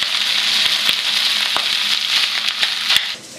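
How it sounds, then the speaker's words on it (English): Oil sizzles and crackles steadily as cold cooked rice fries for fried rice in a hot pan, a close, continuous hiss with a few sharper pops, easing off at the end. "That sizzle, you want to hear that."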